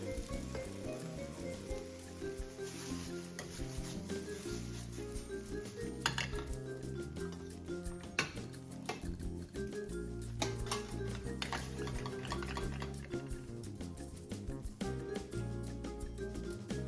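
Spaghetti simmers in sauce in a skillet, giving a continuous soft sizzle with clinks of pans and utensils throughout, while a voice talks over part of it and music plays in the background.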